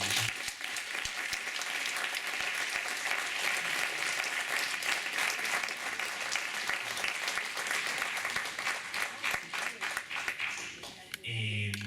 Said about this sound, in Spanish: un aplauso para la Ignacio